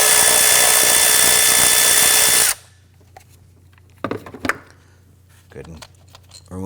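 A 10mm socket loosens the ignition coil bolt on a 2017-2020 Hyundai Elantra: a loud, steady whirring tool run for a couple of seconds cuts off abruptly, followed by scattered clicks and a voice speaking.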